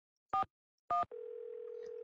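Telephone dialing in the Nancy Drew video game Secret of the Scarlet Hand: two short tone beeps, then a steady dial or ringing tone that holds to the end, clear and alone.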